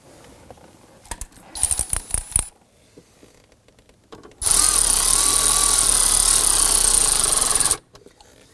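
A cordless power tool drives screws into a 2001-2009 Volvo S60 blower motor assembly under the dash: a few short whirring bursts, then one long, loud, steady run of several seconds before stopping, close up with no talk.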